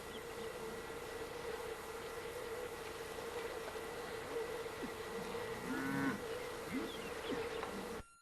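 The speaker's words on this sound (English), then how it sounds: "Some of the cattle" Several cattle low intermittently across a morning on a sprawling ranch, with a couple of louder, closer moos near the end over a steady hum of insects and background drone.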